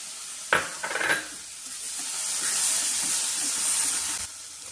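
Ground onion masala paste hits hot oil in a kadhai for a Khandeshi dish, giving a sudden wet splash and stir, then a steady close sizzle with hiss that holds until the end.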